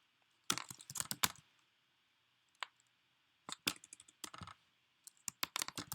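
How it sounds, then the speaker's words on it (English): Bursts of quick keystrokes on a computer keyboard, close and fairly quiet, arriving in short irregular clusters separated by pauses, with no talking. "Let's type this in."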